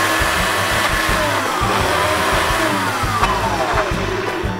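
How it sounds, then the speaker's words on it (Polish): A kitchen blender labours through a thick, healthy homemade dip, its motor droning loud and strained with pitch shifts as the blades bog down, running continuously and alone. "Już blender nie chce ciągnąć, więc najlepiej troszkę poszejkować, pomachać."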